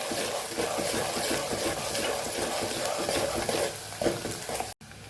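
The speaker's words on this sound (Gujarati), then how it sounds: "ડુંગળીનો કલર ગુલાબી થાય ત્યાં સુધી સાતડવાની છે" Onions sauté in a pan with a pinch of salt while being stirred, giving a steady close sizzle and scraping that runs almost without break and cuts off abruptly near the end.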